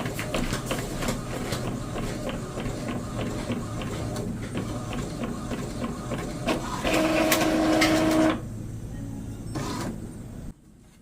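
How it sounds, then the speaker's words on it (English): A desktop printer running a job on a custom Christmas card: rhythmic mechanical whirring and clicking, close and steady, with a brief higher motor whine near the end before it stops. "now it's time to send it to the printer"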